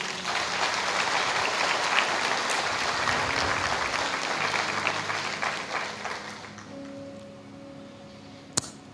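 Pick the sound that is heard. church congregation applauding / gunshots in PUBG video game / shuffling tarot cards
church congregation applauding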